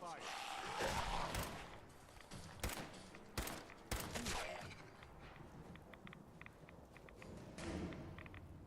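Gunfire in Fallout 4 breaks out in sharp, scattered bursts and single cracks, some close and loud, others softer, with thuds and footsteps in a noisy game scene.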